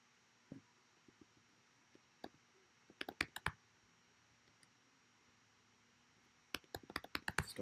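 Sparse keyboard typing, close and quiet: scattered single clicks, then two short bursts of rapid keystrokes separated by a pause.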